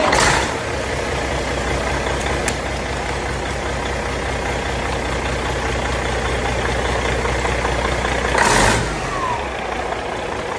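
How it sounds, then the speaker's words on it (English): A Caterpillar 3406E diesel engine newly installed in an old Peterbilt truck, idling with a steady, deep rumble throughout and a brief rev or bump in loudness near the end. "we got the 3406E Caterpillar engine running, and it really sounds good"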